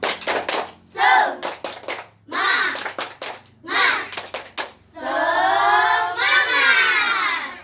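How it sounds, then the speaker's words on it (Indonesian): Schoolchildren in a fifth-grade classroom perform the rhythmic tepuk semangat chant, bursts of sharp group clapping alternating with loud shouted chanting voices, ending in sustained yelling. "kita akan tepuk semangat terlebih dahulu agar lebih semangat"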